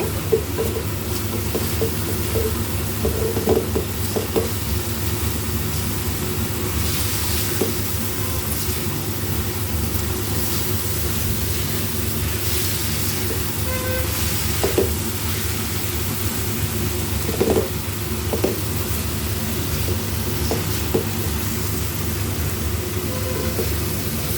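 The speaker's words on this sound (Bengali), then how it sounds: "প্রায় ভাজা ভাজা হয়ে চলে এসেছে।" Shrimp, potato and yardlong bean stir-fry cooking in a pan, a constant low hissing sizzle throughout with faint scattered clicks, no voices.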